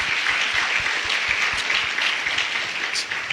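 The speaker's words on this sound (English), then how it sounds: "I think our speakers tonight deserve a round of applause" Steady applause from a crowd honoring the speakers at an evening public event, dense clapping filling the space at an even loudness throughout, with no voices rising above it.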